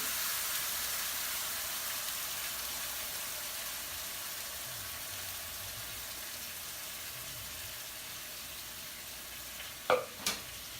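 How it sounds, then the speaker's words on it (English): Onion and ginger paste frying in a pan for masala gobi over medium heat gives a steady, even sizzle throughout, with a couple of quick utensil clinks near the end. "Now this is the time to add onion and ginger paste."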